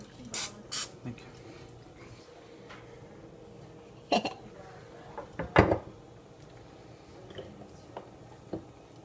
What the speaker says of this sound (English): Spray it lightly.